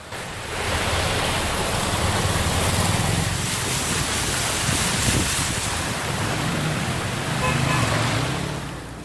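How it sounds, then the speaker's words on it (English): Heavy monsoon rain pours over flooded streets in Chennai, Tamil Nadu, a dense, steady roar of rushing water and wind that holds loud and constant with no speech. "this is the heaviest rain since the 2015 floods in Chennai"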